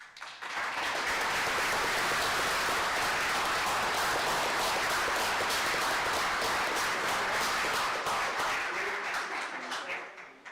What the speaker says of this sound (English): please, pretty good applause for these people